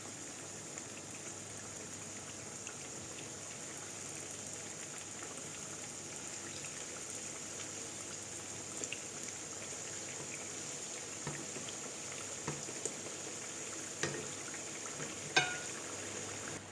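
Inflaos dough pieces frying in oil in a pan, a soft continuous sizzle at low level with occasional small pops and crackles.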